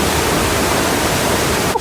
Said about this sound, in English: this is the Killer Kern, the Kern River. And look how it's raging right now